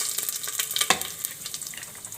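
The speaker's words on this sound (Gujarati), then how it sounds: "તેલ આવી ગયું તો પહેલાં રાઈ નાખી દેવું, પછી આપણે જીરું નાખી દેવું" Mustard seeds, cumin and garam masala crackle and sizzle in hot oil, a steady close frying hiss with sharp popping spikes, one louder pop standing out, no talk over it.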